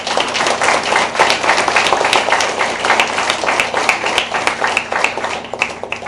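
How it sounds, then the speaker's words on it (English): A congregation claps at a Sunday School library inauguration in an Indian Orthodox church, individual hand claps standing out as crisp, close strikes within moderate, steady applause. "We have to appreciate them, give them a good applause."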